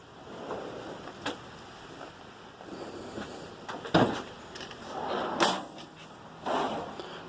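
Drawers on a Snap-on KRL tool box slide open and shut with several clicks and thumps, spaced irregularly with a sharper clack near the middle. The sounds are close, with no speech over them.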